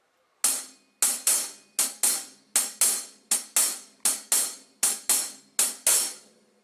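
A drum kit plays a slow shuffle with evenly repeating strikes that ring out and decay between hits, in a swung, loping rhythm. The kit is close and clear, and no one talks over it.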